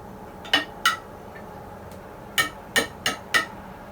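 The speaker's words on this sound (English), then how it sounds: "Give it a mix with the spoon." A spoon clinks against a bowl while stirring dairy-free vegan probiotic powder from capsules into vegan yogurt, with six sharp, close taps in two clusters over quiet room tone.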